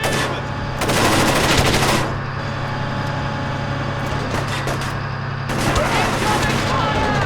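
Heavy sustained automatic gunfire in the video game Splinter Cell Chaos Theory, a loud continuous rattle of shots with swelling bursts over a dense rumbling background.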